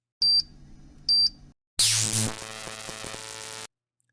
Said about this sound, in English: It beeps once, twice, then detonates a sharp electric pulse